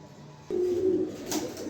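A racing pigeon gives a short, low coo close by, a single soft call over quiet room noise.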